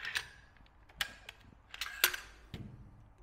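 The bolt of a Czech DSS PZD556 machine gun is handled close up, giving several sharp metallic clicks and clacks at uneven intervals, with quiet pauses between them.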